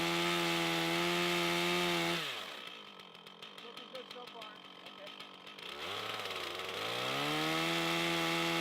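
A chainsaw trims the gray outer wood off a log being shaped into a handrail for a single-log bridge, cutting loudly for about three and a half seconds between steady idling engine drone.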